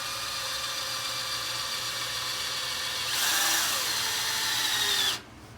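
Power drill boring into a punch mark on telescoping TV antenna metal, a steady whining hum that rises in pitch and grows louder partway through, then cuts off abruptly near the end.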